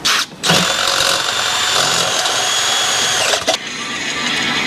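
A power tool grinds steadily and loudly, enlarging a hole in a titanium exhaust pipe for a custom exhaust on a brand-new 2024 Corvette Z06. The tool runs continuously and cuts out briefly twice, with no talk.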